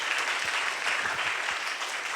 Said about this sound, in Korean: 세 분께 다시 한번 박수로 감사해요